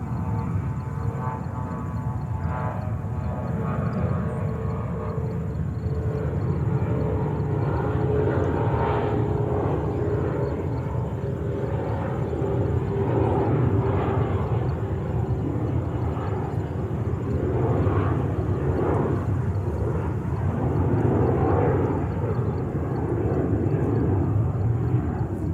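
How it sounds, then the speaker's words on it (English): A Condor Airbus A330-900 arriving from Frankfurt lands at JFK with a continuous broad roar of jet engines and rushing air, heard from a distance and holding steady throughout without fading. "And Condor 330-900 from Frankfurt just landed on 22 left."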